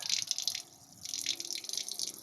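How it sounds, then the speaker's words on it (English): Water runs from a tap while a fresh water tank is being filled, a faint, steady trickle and splash with a brief lull partway through. "when we see the water coming out of this tap here, when it stops flowing, I know that there's no greater pressure in the tank"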